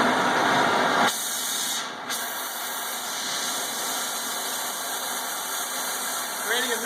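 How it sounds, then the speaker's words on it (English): An oxy-acetylene torch with a large tip burns with a steady, loud roaring hiss, set to a neutral flame. A burst of gas noise at the start gives way to the continuous flame, with some voice underneath. "This is the biggest torch tip that this torch can handle."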